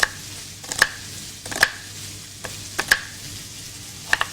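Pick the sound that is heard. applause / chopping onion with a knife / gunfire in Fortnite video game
chopping onion with a knife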